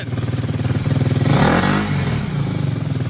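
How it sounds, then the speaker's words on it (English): A KTM motorcycle engine revs loudly up close, idling with a steady lumpy pulse before climbing sharply to a high roar around the middle and then dropping back to idle. "Rev it! Rev it, rev it!"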